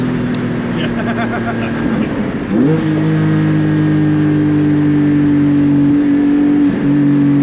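A car engine rumbles and then revs up, its pitch climbing and holding as it accelerates, loud and close.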